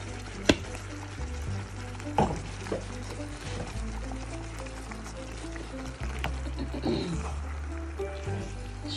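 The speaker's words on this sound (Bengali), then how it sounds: "এখন আমি সসেসগুলি ঢেলে দিব।" Chicken sausages with green chilies tumble into hot oil in a pan: a few sharp clunks and splashes, then a continuous close sizzle and bubbling.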